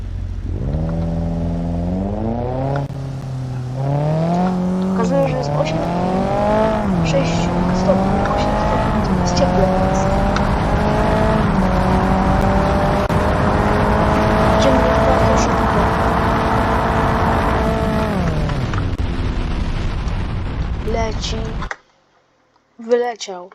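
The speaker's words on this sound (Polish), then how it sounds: "Więc przechodzimy do kolejnego auta Golfa czwórki." A Volkswagen Golf IV engine revs hard in a video game, pitch climbing and dropping through gear changes with tire squeal, loud and continuous before it cuts out abruptly, followed by a brief splash-like burst.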